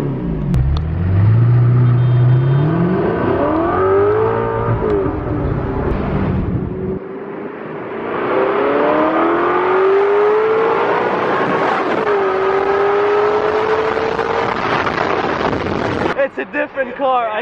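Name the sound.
Audi R8 engine revving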